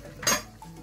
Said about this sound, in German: Und dementsprechend so geben wir die in die Pfanne mit dazu.